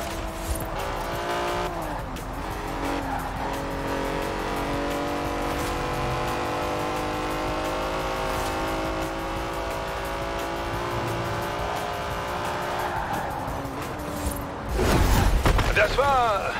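A car running at full throttle in Forza Horizon 4, a steady sustained engine drone with layered harmonics holding for most of the stretch, ending in a louder, harsher burst near the close; game audio plays throughout with a voice present underneath.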